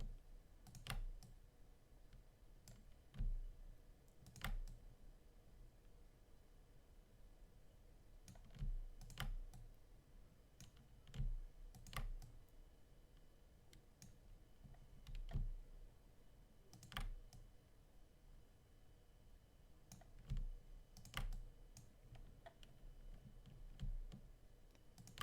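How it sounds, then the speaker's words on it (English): Mouse clicks from clicking down and releasing while using the Clone Stamp tool in Photoshop: faint, sharp clicks in irregular clusters over a quiet background, repeating many times. "you can probably hear me clicking down and releasing it"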